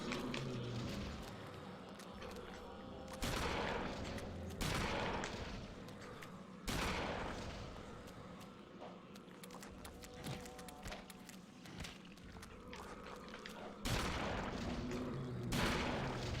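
Shotgun blasts in the horror video game Eternal Darkness, several loud separate booms spaced seconds apart, each with a sharp attack and a lingering rumble over a dim game ambience.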